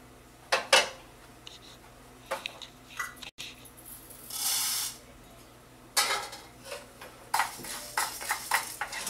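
Horse gram dry-roasts in a pan, giving intermittent scraping and rattling clatters broken by short bursts of hiss, close and fairly loud, with no talking.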